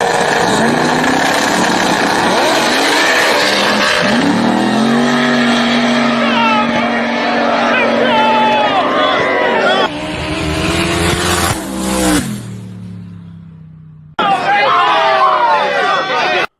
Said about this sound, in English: all-wheel drive Civic versus twin-turbo Chevy S10